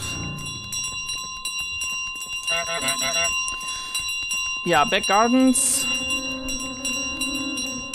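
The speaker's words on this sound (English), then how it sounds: "And then we just go with the bell and say goodbye to the pub." A goose in Untitled Goose Game carries a bell, a ringing tone that sustains steadily under conversational speech, with a louder vocal-like warble partway through.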